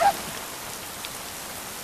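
Steady rain falling in a sudden shower, a constant hiss of drops on surfaces throughout, fairly quiet and even, with no voices.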